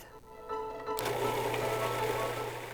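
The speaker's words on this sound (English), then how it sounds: "In a food processor or blender, add strawberries. Add sugar. Add your cream or half and half. Mix until smooth." A food processor or blender whirs as it purées strawberries with sugar and cream, starting with a low hum and then rising to a loud, steady motor whine about a second in that keeps going to the end, with no talk.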